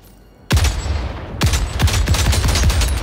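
Anti-material rifle firing in a video game: a heavy opening blast, then a rapid run of sharp, loud shots with booming low tails that crowd together toward the end.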